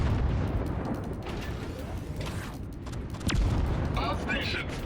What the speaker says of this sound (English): We should also probably fire at it with AP.